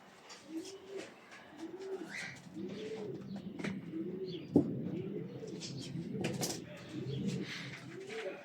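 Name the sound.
pigeons cooing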